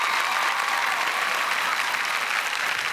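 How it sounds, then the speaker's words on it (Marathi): A stage audience in Maharashtra breaks into sustained, even applause, a thick wash of clapping that holds steady for several seconds. "या प्रेक्षकांसाठी आपण सगळे टाळ्या वाजवत या महाराष्ट्रातल्या प्रेक्षकांसाठी"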